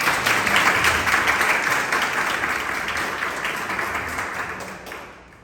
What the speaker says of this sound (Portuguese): pedir uma salva de palmas para ele.